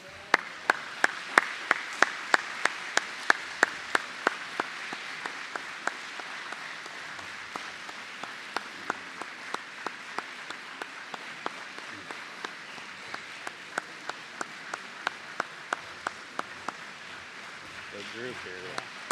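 Audience applause at a technical institute graduation ceremony in a large hall, a long wash of steady crowd clapping with regularly spaced, sharper claps standing out, continuing throughout at moderate distance.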